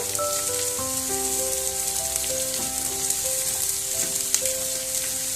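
Ridge gourd pieces frying in a pan over a high gas flame, a continuous crackling sizzle heard alone, with steady faint background music tones beneath it.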